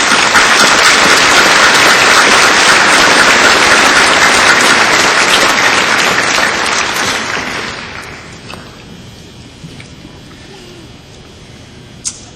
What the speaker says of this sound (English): Let's give the family and friends a round of applause.